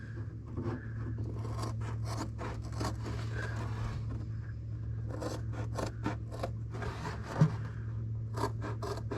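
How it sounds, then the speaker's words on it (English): A pair of scissors snips through floor mat material in repeated crisp cuts, some quick runs and some spaced pauses, close up over a low steady hum. "just use a pair of decent scissors"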